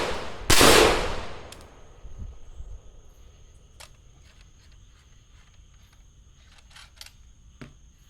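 Single suppressed rifle shot using 55 grain Tula ammunition through a HUXWRX Blastphemy suppressor, a sharp loud crack and short decay outdoors, followed by quieter metallic clicks and faint ringing.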